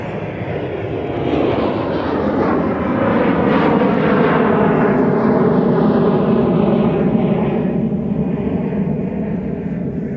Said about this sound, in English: SkyWest flight bound for Chicago Midway with an Embraer 175 LR